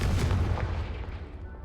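A Confringo spell explosion in Hogwarts Legacy lands as a single heavy, booming blast with a deep low thump that fades out over a second or so.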